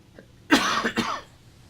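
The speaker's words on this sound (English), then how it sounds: "Once again, excuse my cough." A single short, close cough, two quick bursts, against a quiet background.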